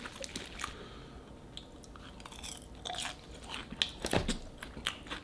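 Close, quiet bites and wet chewing of a bulgogi burger, with soft crunches and squishy mouth sounds building toward the end, no talking.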